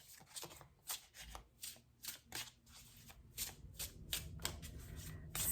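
A deck of oracle cards being shuffled by hand, a run of soft crisp riffles and slaps repeating at an irregular pace, close and fairly quiet, with the shuffling growing busier toward the end.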